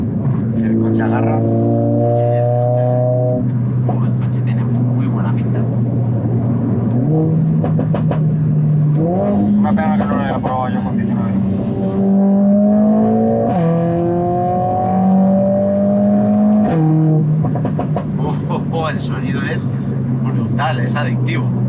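Turbocharged Mercedes-AMG A45 S engine accelerating hard, loud and close, its tone climbing and dropping through several gear changes without a break.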